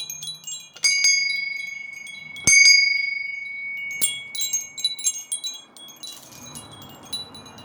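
A bell fixed to a decorative horse's head, rung indoors in several bright metallic strikes, each ringing out in a long sustained tone, followed by lighter jingling and rattling near the end.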